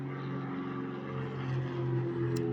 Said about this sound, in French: Désolé, c'est un avion qui passe.